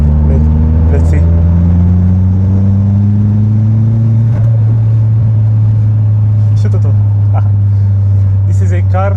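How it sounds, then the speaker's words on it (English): Turbocharged Opel Bertone being driven, a loud close engine drone with rising then steady pitch as it accelerates, plus brief fluttery bursts that fit turbo flutter; a voice speaks over it. "I really hope you can hear the turbo flutter."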